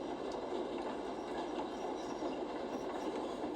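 Steady rumbling roar of a train riding on rails in The Raven Remastered game, continuous and even in loudness throughout, with no speech.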